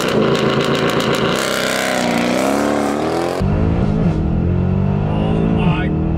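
A Mercedes C63 Black Series doing a race-start launch, the engine roaring loud and close as it climbs through the revs with a quick upshift, while someone talks over it.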